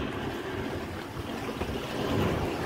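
Waves sloshing against a small fishing boat rocking at Mora jetty in Uran, a steady close wash of water with wind noise, no voices.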